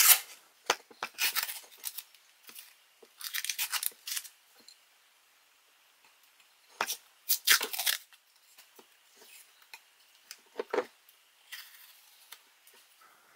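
A vintage 1960s hatchet is sharpened by hand, with close, dry, raspy filing strokes in short clusters separated by quiet gaps.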